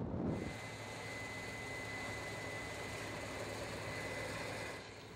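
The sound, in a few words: combine harvester running while harvesting soybeans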